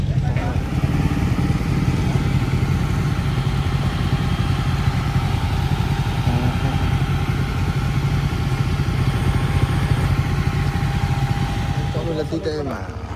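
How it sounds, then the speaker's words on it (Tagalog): A motorcycle ride near Umiray, Dingalan: a steady, close engine drone with rattly clatter runs throughout, and faint voices can be heard under it. "nakamotor"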